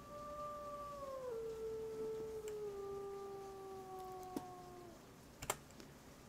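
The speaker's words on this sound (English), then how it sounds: "Let's do a little howl." A wolf in the WolfQuest game gives a long, clear howl that bends downward, joined by a second overlapping tone, then a few faint clicks near the end. No one talks over it.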